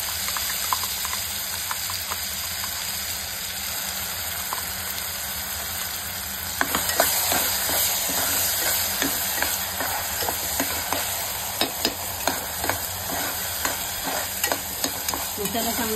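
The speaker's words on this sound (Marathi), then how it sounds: "त्यात हा मसाला मी घालत आहे. मसाला चांगला असा आपला तेलात चांगला फ्राय करून घ्यायचा आहे." Masala and curry leaves frying and sizzling in hot oil in a pan for a Maharashtrian corn amti curry, a steady crackling hiss with sharper pops and stirring scrapes growing busier partway through, close and alone.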